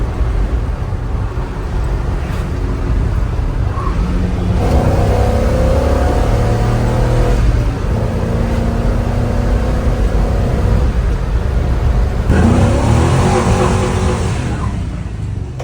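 Loud engine of a 1959 Chevy truck fitted with a modern engine, revving hard and bouncing off the rev limiter in repeated bursts, close by with steady roar and no talking.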